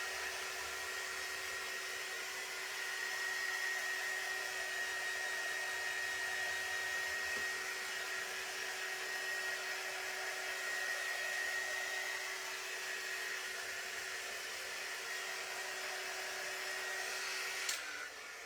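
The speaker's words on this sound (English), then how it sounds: "This is plastic though, so don't get too close with the heating tool." A heating tool blows hot air at a plastic rub-on transfer, a steady whirring hiss that runs unbroken for about eighteen seconds and ends with a brief click.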